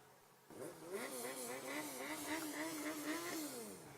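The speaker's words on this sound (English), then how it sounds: "there goes one of the engines" Engine revving hard outdoors at a public meeting, a steady loud roar with rising and falling pitch sweeps as the throttle is worked, starting abruptly and holding for several seconds.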